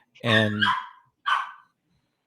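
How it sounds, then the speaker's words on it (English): A dog barks indoors, one long loud bark followed by a shorter second one after a brief pause. A person speaks briefly at the very start. "sorry, that's my dog."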